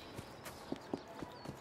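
Horse hooves clip-clop at a steady walking rhythm as a horse-drawn carriage moves through Victorian streets in Assassin's Creed Syndicate, with faint, evenly spaced thuds over a soft background.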